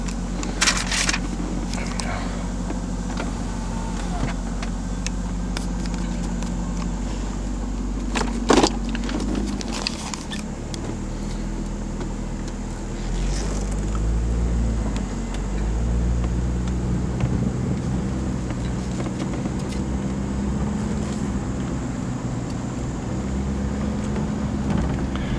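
A 1998 Chevrolet Corvette C5 rolls slowly around a dealership lot, its low engine hum steady and close throughout, with a few brief knocks and shifts in tone along the way.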